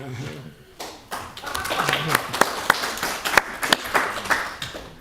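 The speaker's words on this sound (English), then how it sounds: "There was clapping." People clapping at a council meeting, scattered claps that build up to a brief round of applause, with speech going on alongside.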